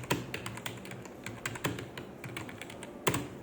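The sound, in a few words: typing on a computer keyboard, English typing test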